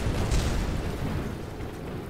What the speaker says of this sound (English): here they are burning up and exploding